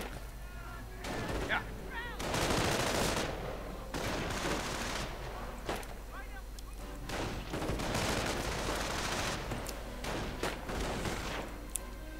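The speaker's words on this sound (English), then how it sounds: "Volksgun is coming under fire from the riflemen." Rifle fire from infantry squads in a World War II real-time strategy game, with dense bursts of shots and battle noise continuing throughout at a steady, fairly loud level.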